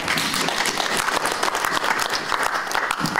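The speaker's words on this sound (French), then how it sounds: "On l'acclame encore très fort." A church congregation claps loudly during a worship service, a dense, continuous round of applause filling the room without pause.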